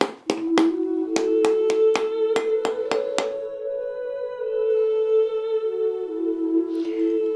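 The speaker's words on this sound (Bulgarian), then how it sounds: "за да ги извадя от кората, почуквам с ножа" A knife taps the back of a pomegranate half again and again, about ten quick, sharp, close knocks, followed by a long quiet ringing tone, loosening the seeds from the peel.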